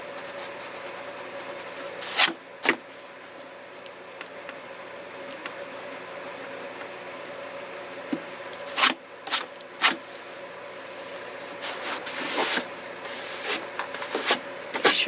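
An eraser rubs over dry watercolor paper, taking out pencil lines in short, scattered bursts of scratchy rubbing against a quiet room background.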